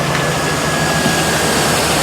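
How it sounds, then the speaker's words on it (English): A 2002 GMC Sierra truck engine idling with the air conditioning belt removed, a steady, close, low rumble with a faint thin whine riding over it. "Nice and quiet, other than regular engine noise"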